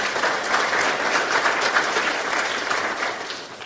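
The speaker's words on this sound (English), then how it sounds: "So a round of applause, please, for our partners on this." A seminar audience at a Kansas City safety event applauds its partners, a dense, steady wash of many hands clapping at even loudness throughout, with no voices standing out.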